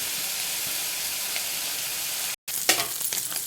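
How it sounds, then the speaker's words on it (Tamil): Continuous loud sizzling and crackling of paneer frying in a hot pan with cumin, with a brief cut partway through and a clatter of stirring afterward. "பட்டதில் பன்னீரை போட்டு அப்படியே ஃப்ரை பண்ணணும்"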